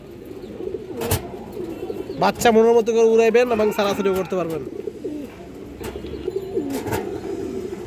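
Pigeons at a Bangladeshi pigeon seller's, a clear nearby burst of rolling coos in the middle, with someone talking before and after.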